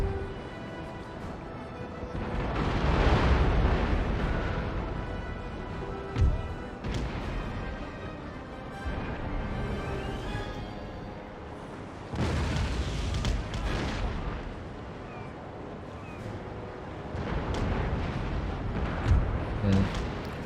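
Naval cannon broadside from a British ship against an East Indiaman in Empire: Total War, heavy booms and rumbling blasts rolling over one another, loud and continuous under game music.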